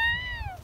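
A single short, high meow-like cry that slides downward and fades, heard close up during a Sunday walk in a forest, with no talking over it.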